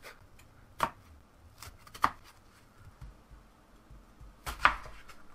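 A knife makes cross slices through an onion to dice it, landing as three sharp, separate chops on a cutting board with quiet pauses between them, close and fairly soft, with no talking.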